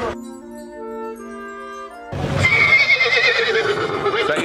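Horses at an animal market whinny loudly and close by, a long neigh breaking out midway after a quieter stretch of tonal sound, with no talk over it.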